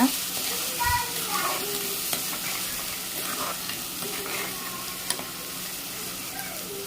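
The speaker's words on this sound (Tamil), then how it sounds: "வெங்காயம் ஆட் பண்ணி இந்த எண்ணெயிலேயே நல்லா வதக்கிடுங்க" Onions sauté in oil with fenugreek seeds for a fish curry, a steady close sizzle with occasional spoon scrapes and a couple of light knocks against the pan.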